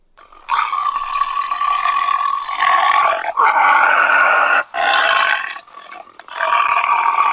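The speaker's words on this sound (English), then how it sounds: "Tiger." A tiger gives loud, sustained, rasping roars and growls in a few long close bursts with brief breaks, with no voices over them.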